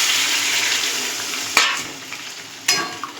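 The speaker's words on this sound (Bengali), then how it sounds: "এবার আমরা পরিমাণ মতো জল দিয়ে দেবো।" Hot oil sizzles loudly as water goes into a curry of mutton fat, potato and jackfruit seeds, with two sharp spitting bursts and a hissing fade.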